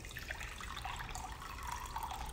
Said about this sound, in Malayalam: ഈ റൈസിലേക്ക് നമ്മൾ ഒരു 1/2 കപ്പ് എടുത്ത് വെള്ളം ഒഴിക്കുകയാണ്.